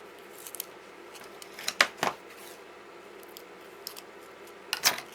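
Cheap, worn scissors snipping through ribbon during gift-box crafting, a few sharp, close cuts in short bursts with quiet gaps between.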